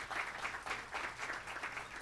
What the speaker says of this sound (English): a really big round of applause to James and his team at Access Health for this